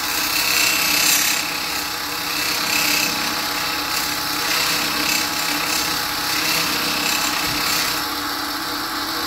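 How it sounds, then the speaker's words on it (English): A damaged plane iron is ground on a powered grinder, giving a steady, loud abrasive rasp that runs continuously throughout with only slight swells in intensity. "I'm going to grind it for a second here."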